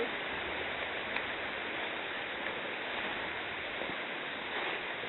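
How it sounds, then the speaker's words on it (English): A stream in a valley bubbles and gurgles in a steady, even rush of water, moderately near and unbroken for a few seconds with no voices. "there's nothing like walking along the stream and listening to it gurgle, the bubbling stream"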